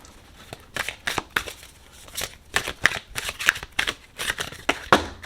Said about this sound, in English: So let's start by shuffling.